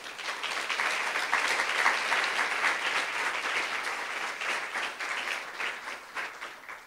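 A church congregation claps together in steady, fairly distant applause that continues evenly throughout, with no talking over it.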